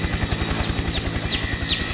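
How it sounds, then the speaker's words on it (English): Helicopter blades beat in a fast, steady chop that stays loud and continuous throughout, with faint high chirps above it and no voices. "Chop, chop, chop went the blades of the helicopters."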